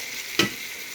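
Ackee and salt fish frying in a pan for Jamaican cooking: a continuous close sizzle with a single brief clatter from stirring partway through.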